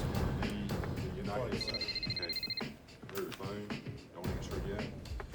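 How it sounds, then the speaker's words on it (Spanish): An electronic telephone ringtone sounds as a steady burst of a second or so, mixed under music and narration in a Spanish-language crime documentary. "Esa tarde, el teléfono de Paulo sonó."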